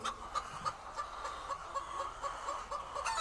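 White egg-laying hens kept in crates on a poultry farm cluck in short, repeated bursts, a busy overlapping chorus heard from a moderate distance.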